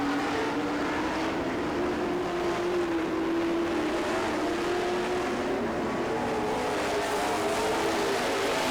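Race cars roar around a racing track at a distance, a continuous droning engine note that rises and falls slightly as they pass, without talk.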